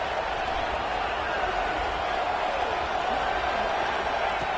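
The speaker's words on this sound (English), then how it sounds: "listen to this crowd noise. This stadium is vibrating." Loud, steady roar of a packed stadium crowd at a college football game, a dense continuous wash of cheering and noise with no pauses, filling the whole clip.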